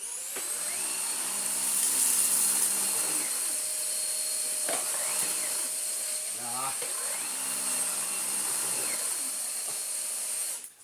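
A Henry Quick vacuum cleaner fitted with a hacked-on Dyson V11 High Torque head runs continuously on its default setting, a loud steady whine and hiss with a few brief clunks and rattles partway through.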